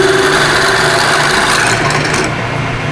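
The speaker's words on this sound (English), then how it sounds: "Punching the holes out." A loud power tool punching holes for a race car transmission project whines steadily up close, a continuous mechanical buzz that eases slightly near the end.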